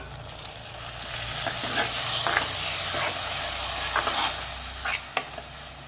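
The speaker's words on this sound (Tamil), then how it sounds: "வெங்காயம் தக்காளி நல்லா வணங்கட்டும்." Onions, curry leaves and ground tomato paste sautéing in a pan for vendakkai puli kuzhambu, a steady broad sizzle with occasional stirring scrapes and soft pops, close and continuous without talk.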